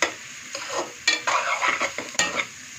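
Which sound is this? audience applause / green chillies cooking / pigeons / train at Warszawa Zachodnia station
green chillies cooking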